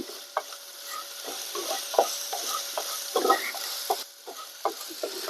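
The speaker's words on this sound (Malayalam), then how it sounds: "അപ്പൊ അത് നന്നായിട്ട് വഴറ്റാം" Ginger and garlic sauté in a pan for a tuna fish curry, with a steady sizzle and repeated scraping stirs of a utensil close by.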